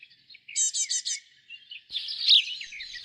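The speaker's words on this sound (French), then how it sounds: "les mésanges bleus, les charbonnières et les moineaux parviennent à cohabiter" Several blue tits, great tits and sparrows chirp and tweet at a garden feeder, a quick run of four bright notes followed by a busier, overlapping burst of twittering calls, fairly close.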